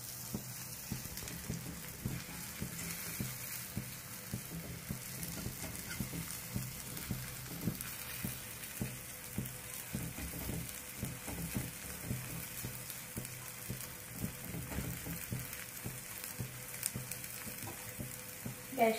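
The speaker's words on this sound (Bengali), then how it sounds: "লো হিটে এটাকে ফ্রাই করতে হবে ভালো করে।" Puffed rice and egg omelette frying over low heat in a pan, a steady crackling sizzle running evenly throughout with faint background hum and no talk.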